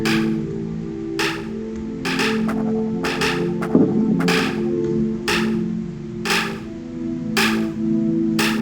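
Spaceship gunfire and explosions from a space shooter game in development: sharp, evenly spaced bursts repeat about once a second over a steady synthetic hum, with one brief louder blast near the middle.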